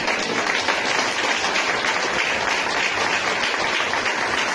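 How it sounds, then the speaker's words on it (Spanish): A church congregation claps together in steady, dense applause that carries through the whole stretch at an even level, with no voices above it. "Demos un aplauso a Cristo Jesús."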